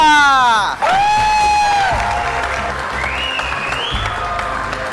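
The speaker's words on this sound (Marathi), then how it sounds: "टाळ्या." A crowd claps steadily and cheers at the opening of a match between the Gavdevi Champion and Ranragini Warriors teams. A few rising whoops or whistles come near the start, then a loud, continuous wash of applause follows.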